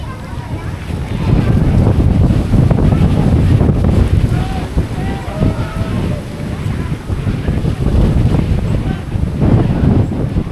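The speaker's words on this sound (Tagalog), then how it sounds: "Lakas ng hangin eh" Strong wind in Tagaytay, Philippines buffets the microphone with loud, rumbling gusts throughout, surging and easing, with faint voices buried underneath.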